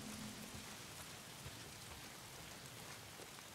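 Rain falls in the Days Gone game in a faint, even, continuous patter with no voices, ending in a brief louder bump at the very end.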